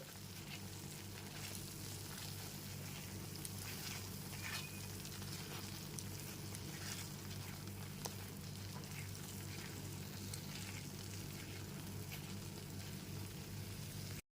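Coriander powder stirs and fries in a pan over a low gas flame for a white paneer gravy, giving a soft, continuous sizzle that holds steady and fairly faint throughout with no voices.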